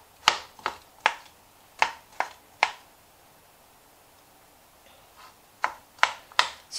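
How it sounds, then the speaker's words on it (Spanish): A knife chops through avocado on a cutting board in crisp, sharp strikes: a quick run of five cuts, a short pause, then four more, close and clear with no talking. "vamos a picar el aguacate bien picado"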